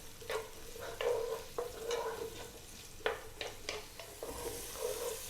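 Carrots and garlic fry over medium heat in a pan, a steady soft sizzle broken by a few scrapes as they are stirred, close up and without talking.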